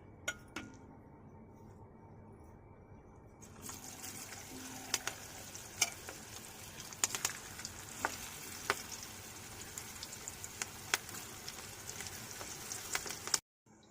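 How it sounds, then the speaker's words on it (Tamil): Baby corn chicken 65 sizzling as it fries in hot oil in a home kitchen, a quiet start giving way to a steady crackling fry with scattered sharp pops and clinks of a utensil. "இப்போ நம்ம எண்ணெயில் போட்டுக்கலாம்."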